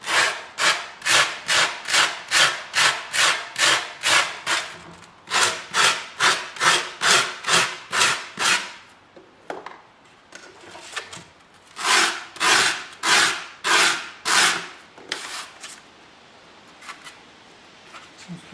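Sharp corners of a wooden piece are rounded over by hand, heard as bursts of brisk rhythmic rasping strokes, close and loud, with short pauses between runs.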